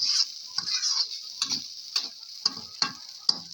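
Fried rice with naem stir-fried until dry makes a close, steady high sizzle cut by quick spatula scrapes and taps against the pan, in a brief burst with no speech.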